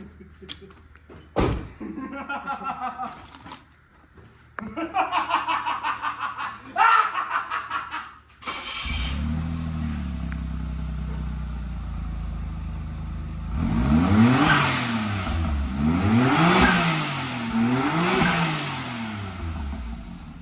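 A Suzuki Wagon R with an aftermarket Apexi exhaust idles with a deep, throaty rumble, then revs up and down several times in rising and falling sweeps; laughter and talk come earlier.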